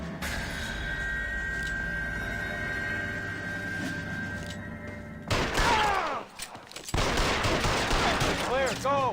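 Tommy gun bursts in L.A. Noire, rapid automatic fire crackling in loud repeated volleys amid other gunshots, with voices talking through the shootout.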